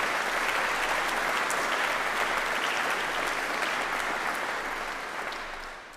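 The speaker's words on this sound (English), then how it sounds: "How about joining me in a warm round of applause for everyone that's done this?" Warm, even applause from a large crowd at a commissioning ceremony, a continuous wash of clapping that holds steady and then gently fades.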